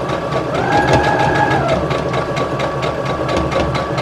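Sewing machine stitching a fabric scrunchie, a steady, loud mechanical whir with rapid needle rattle running throughout, heard alone without voices.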